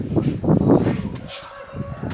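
Chickens clucking close by in short, busy bursts, with a few higher calls mixed in.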